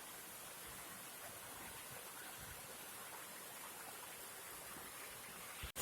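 Water pouring steadily down Cataract Falls, a continuous broad rushing hiss heard close and unbroken throughout, ending with a sudden cutoff.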